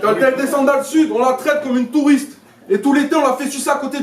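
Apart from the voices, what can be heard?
No everyday noises stand out.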